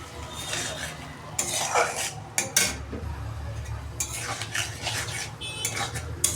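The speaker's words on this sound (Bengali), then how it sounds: "এবার জাস্ট আলুর সাথে ভালো করে কষিয়ে নিয়ে একটু সামান্য মশলা ধোয়ার জল দেব, একটু কষিয়ে নেব" Potatoes with spices being stirred and sautéed in a pan for a fish curry, with repeated scraping and clanking of a spatula over a steady low sizzle.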